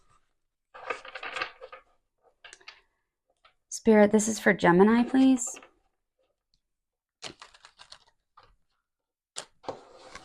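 Soft papery riffling of tarot cards being shuffled in a few short bursts, with a voice speaking briefly in the middle and light clicks near the end.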